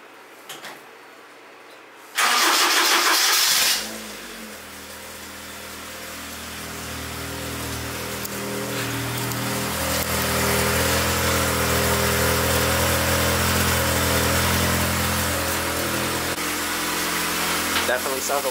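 A car with an upgraded turbo cranks briefly, then its engine catches and settles into a steady, fairly loud idle that rises slightly and holds, heard up close with no talking.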